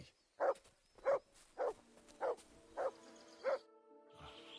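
A dog in Kingdom Come Deliverance 2 barks six times in a steady, evenly spaced rhythm, fairly close and clear, with no talking over it.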